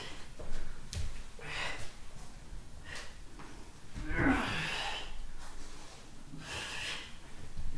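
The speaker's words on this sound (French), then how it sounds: "Je veux vous entendre respirer quand vous faites les exercices et souffler" Heavy, forceful breaths and sharp exhales during a shoulder, arm and ab workout session, several snorting puffs spaced across a few seconds, close and fairly loud with no talking.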